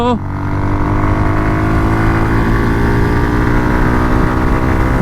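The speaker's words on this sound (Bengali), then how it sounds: "ওরে বাইক একশো খালি চোখের পলকে হিট করতেছে ভাই" A Suzuki Gixxer motorcycle engine roars loudly and close, holding a high, strained pitch as it runs hard at about 100 km/h, with wind buffeting throughout.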